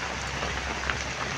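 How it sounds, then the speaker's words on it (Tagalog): Heavy rain pours down near the Marbel–Tupi boundary, a dense, steady hiss of drops with no pauses over a short stretch. "Lakas ang ulan."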